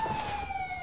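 A police siren wails in a steady, slightly falling tone, brief and fairly loud, with no voices.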